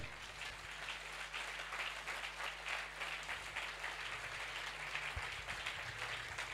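A church congregation applauds together in steady, dense clapping that fills the space, loud and continuous throughout with a faint hum beneath, no speech over it.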